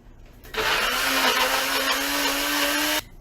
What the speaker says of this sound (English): once it is all blended, yeah, it will be, you know, a frosting consistency